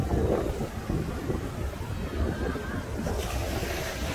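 Sea waves washing along the shore at St. Ives during a food and drink festival, a steady broadband surf roar mixed with wind noise, continuous and fairly close without clear individual breaks.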